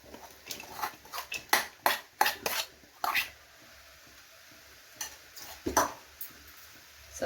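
A spoon mixing rice into vegetables in a pan, heard as a quiet run of clinks and scrapes, then a pause before a few more knocks.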